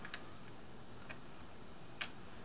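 Sewing machine presser foot lifted and lowered, its adjustable nylon bolt rising with it; a few faint, sharp clicks land at irregular intervals against a quiet background.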